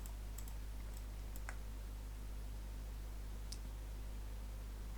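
Computer keyboard keys pressed a few times as a shortcut is entered while unwrapping a model in RizomUV, faint sparse clicks over a steady electrical hum.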